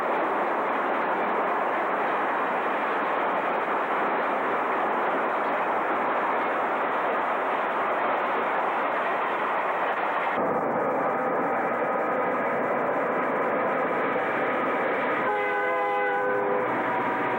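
An Ontario Northland southbound freight train led by two locomotives crosses the Frederick House River Bridge in winter, a steady loud rumble of wheels and cars over the span, with a horn sounding near the end and no talk.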